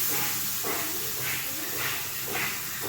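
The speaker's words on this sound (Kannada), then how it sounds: "ನೋಡಿ ನೀಟಾಗಿ ಅದು ಕಲರ್ ಚೇಂಜಾಗಿ ಫ್ರೈ ಆಗಿ ಬರ್ತಾಯಿದೆ" Raw plantain slices shallow frying in oil over a medium flame, a loud close hissing sizzle that swells and eases in a slow, regular rhythm throughout.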